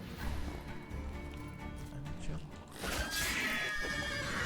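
Roach the horse in The Witcher 3 lets out a whinny and snort, set against game ambience and movement noise, while someone talks over it.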